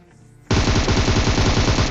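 Rapid automatic gunfire from a shooter video game, PUBG Mobile, bursting in loud and sustained after a half-second of quiet and continuing as a dense, rattling stream of shots with no talking.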